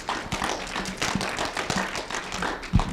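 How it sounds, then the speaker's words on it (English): Clapping from a high school audience for a panel of alumni speakers, a modest, uneven patter of hands with a few louder close claps, brief and fairly near. "can you make a big round of applause for these 5 alumni panelists?"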